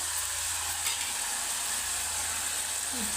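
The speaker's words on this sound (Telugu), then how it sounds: "నీరు ఎగిరేదాకా బాగా ఫ్రై చేసుకోండి" Mutton and potato curry frying in a pan, a constant faint sizzle and hiss with no distinct stirring strokes, heard alone without speech.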